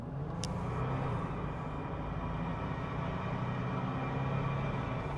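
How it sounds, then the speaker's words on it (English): A 1993 GMC Typhoon turbo truck with 280 horsepower pulls away, its low engine rumble steady and droning with road noise, heard from inside the cabin at moderate level, no talking. "we'll go ahead and show you what this thing will do"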